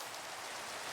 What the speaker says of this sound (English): Wow, that's great time for rain.